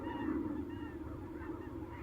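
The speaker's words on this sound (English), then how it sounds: "Immense flocks of migrating seabirds descend on the beaches all along the coast and gorge themselves on the eggs." A huge flock of migrating seabirds gathered on a coastal beach to feed on horseshoe crab eggs, their honking calls merging into a steady, dense chorus with no single bird standing out.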